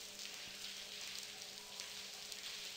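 Rain falling in the Blackwell adventure game, a steady faint hiss of dense rainfall with soft pattering, continuous and even throughout.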